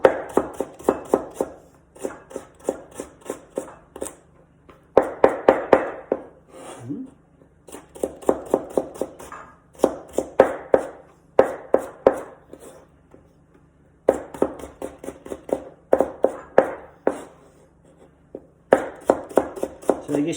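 A knife chopping salad vegetables into rough julienne strips on a cutting board, with rapid bursts of crisp, evenly spaced cuts separated by short pauses, close and distinct, with no talking.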